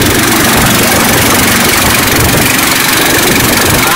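A boat motor on a river journey in the Amazon runs loud and steady at close range, a continuous rough droning roar with no pauses and no speech over it.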